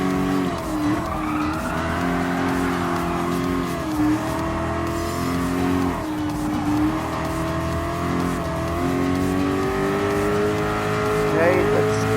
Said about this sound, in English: Looks like this supercharged muscle car really wants a little bit charged up speed.